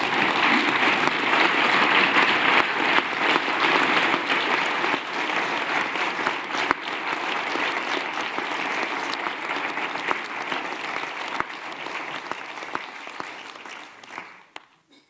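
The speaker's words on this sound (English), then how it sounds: "the applause that you received at the end" Sustained applause fills a Council of the European Union winter meeting after the German foreign minister's speech, loud and dense at first, then thinning and fading out toward the end.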